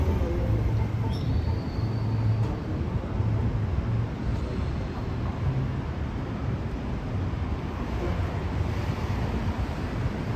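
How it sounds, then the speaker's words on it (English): A New York subway train at the Chambers Street station serving the A, C, E, 2 and 3 lines, heard as a steady low rumble and roar with a brief high screech, continuous and fairly loud throughout. "This is the Chambers Street station, the ACE 2 and 3 trains."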